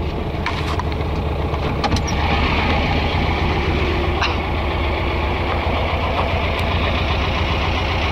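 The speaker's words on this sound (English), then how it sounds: "I can still hear the cam whining, those straight cut gears" A 1969 VW Baja with a 1776 air-cooled engine running at a steady idle, loud and close, with a continuous mechanical clatter and a whine from the straight-cut cam gears.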